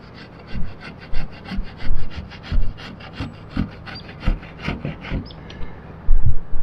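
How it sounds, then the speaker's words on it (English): Knife gouging old sealant out of a seam on an RV, a steady run of short, close scraping strokes in an uneven rhythm, with a few louder rasps near the end. "I'm going to try to get some of this, gouge some of this out of here"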